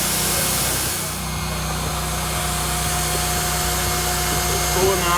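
A hot air welder used on a roofing membrane blows on its cool setting, giving a loud, steady, close whooshing whir that continues evenly throughout.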